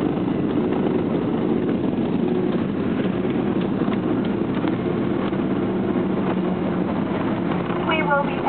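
Airliner taxiing on the ground after landing: a steady low engine hum and cabin rumble runs evenly throughout, with faint chatter and cabin noise on top.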